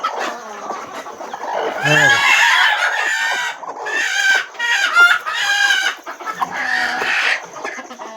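Village hens on a small poultry farm cluck repeatedly in loud, choppy bursts close by, with a rooster-like crowing call early on and no talk.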